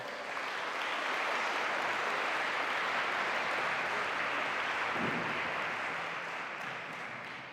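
Sustained applause from a student audience at a SkillsUSA district awards assembly, a dense even roar of many hands that tapers slightly toward the end.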